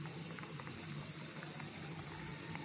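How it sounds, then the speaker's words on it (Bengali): Semolina gulab jamun sweets fry gently in a small amount of oil, making a faint, continuous bubbling patter with no voices. "আমি মিষ্টিগুলোকে এর মধ্যে দিয়ে ভেজে নিব।"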